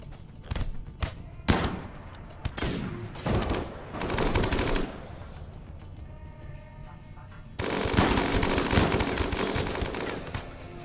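RimWorld combat gunfire rattles in rapid bursts and volleys, loud and close, with brief lulls between rounds of shooting and a heavy barrage near the end.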